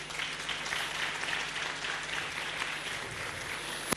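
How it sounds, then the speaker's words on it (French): Audience at the Miss Tunisie 2013 final applauds Mariam Benhassin, a soft, distant wash of steady clapping that continues evenly throughout. "Applaudissements pour Mariam Benhassin."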